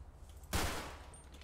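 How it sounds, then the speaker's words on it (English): A single sharp gunshot from a custom AR-15 with modified gun sounds in GTA V with the LSPDFR police mod, a loud crack followed by a fading echo over a low background hum. "I'm using this Glock 17 and some modified gun sounds"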